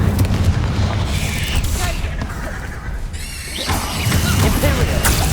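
Spell effects in Hogwarts Legacy as Accio and the fire spell Incendio are cast, a dense rumbling blast with crackling, whooshing magical bursts and a rising shimmer, fairly loud and continuous.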